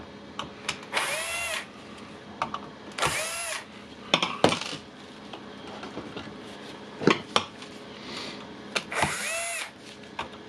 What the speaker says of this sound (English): unscrew the screws here